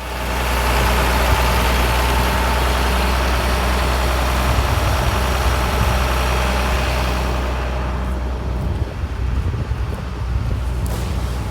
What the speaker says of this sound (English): Looks like that huge tractor is doing a little maintenance